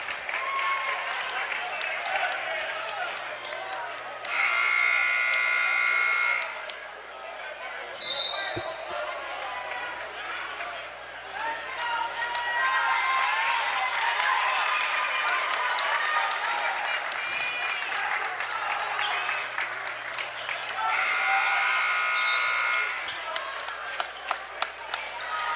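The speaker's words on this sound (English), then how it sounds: "You're hearing that Squan cheer right now by the fans." Basketball fans at a Manasquan boys high school game break into bursts of cheering and applause in a gym, swelling loudly in waves amid ball bounces and sneaker squeaks, with an announcer talking over the crowd.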